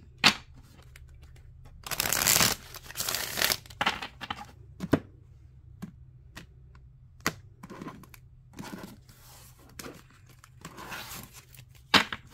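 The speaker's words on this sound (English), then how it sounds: "One more shuffle." Tarot cards being shuffled by hand in a quiet room, giving soft riffling and tapping bursts that come and go in uneven clusters, with louder shuffles early and near the end and no talking.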